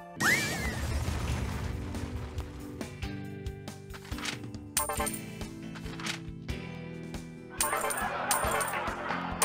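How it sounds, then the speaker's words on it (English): Game sound effects from The Office video game as a pencil cup drops into a vending machine: a jumble of clattering, thudding knocks and a tumbling rattle over a tonal backdrop, ending with brighter metallic crashes. "one of the pranks you can pull on Dwight is putting his pencil cup in the vending machine"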